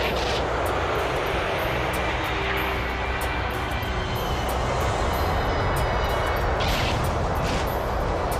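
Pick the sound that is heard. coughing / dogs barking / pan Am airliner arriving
pan Am airliner arriving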